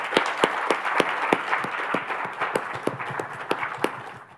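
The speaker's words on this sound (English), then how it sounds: "let's give them a round of applause" Conference audience applauding a cybersecurity panel, a modest scattered clapping with distinct individual claps standing out over a softer wash, fairly faint and brief.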